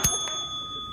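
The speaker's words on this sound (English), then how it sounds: "Let's ding the bell." A single bright bell ding rings out at the start, then fades into a soft, sustained metallic tone, quiet and close.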